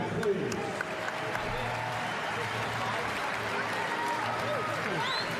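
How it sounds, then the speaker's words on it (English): Crowd applauding both fighters after a mixed martial arts bout at an AFC event, a steady wash of clapping and crowd noise under ongoing commentary voices. "have a nice round of applause for both fighters"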